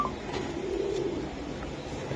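A pigeon gives a soft low coo close by, a single brief rolling call against a quiet background.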